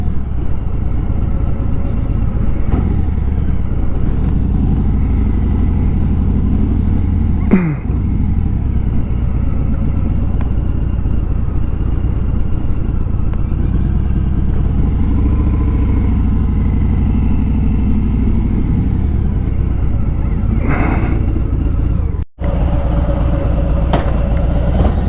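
Motorcycle engine running steadily at road speed on a California road trip, a continuous loud mid-pitched drone with wind rumble and occasional clatter, carrying on without talk.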